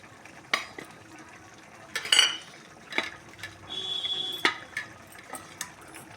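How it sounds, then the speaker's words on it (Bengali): Fried paneer pieces go into a simmering gravy, followed by scattered metal utensil clinks and scraping as the pot is stirred, with a soft, steady cooking hiss underneath. "এবারে আমি পনিরগুলি ঢেলে দেবো, ভাজা পনিরগুলি।"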